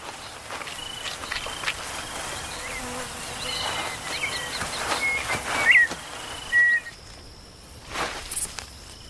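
A swarm of winged termites fills a tropical Brazilian grassland with a close, continuous insect buzz and whir, with a few brief louder passes near the end and faint rustling beneath.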